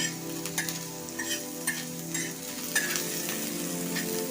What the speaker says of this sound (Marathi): कांदा आपण ब्राऊन होईपर्यंत भाजून घेणार आहे